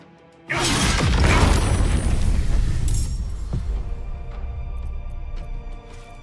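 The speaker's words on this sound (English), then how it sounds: "I'm gonna get hurt from the explosion" A loud video-game explosion from Baldur's Gate 3 bursts in suddenly with a crashing, shattering impact, then a long rumbling tail that fades slowly over several seconds.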